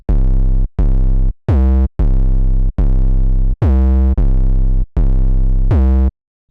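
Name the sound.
Serum 808 bass preset 808 Mom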